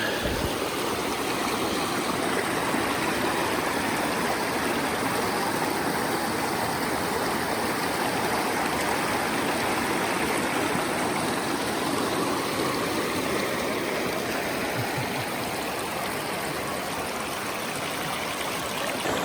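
Ice-cold stream water rushes along a trail in Oregon, a close, steady, unbroken roar of flowing water with no talking.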